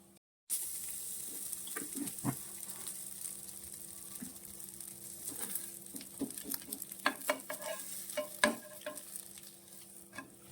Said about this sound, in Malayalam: നമുക്ക് ഒരു പൊറോട്ട കൂടെ ഉണ്ട്, അതും കൂടെ ഒന്ന് മൊരിച്ചെടുക്കാം